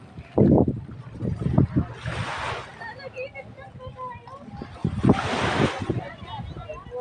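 A ride in a small outrigger boat heading to a resort, with water splashing and sloshing against the hull, wind buffeting the microphone and people talking and calling out over it.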